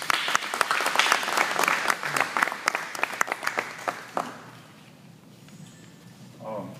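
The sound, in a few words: applause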